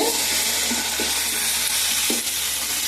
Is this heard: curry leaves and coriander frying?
yes